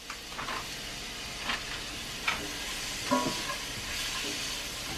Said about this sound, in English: And then I'm going to add the Beyond Meat crumbles.